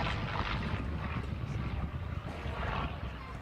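A P-40 Kittyhawk propeller fighter flies a roll during a display at Yeovilton Air Day, a steady, distant, fairly faint engine drone mixed with outdoor wind noise.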